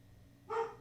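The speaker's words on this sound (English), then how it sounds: "so if you hear my blue heeler barking, then you hear him barking." A blue heeler dog lets out a single short, sharp bark, faint and somewhat distant, after a near-silent moment in a quiet room.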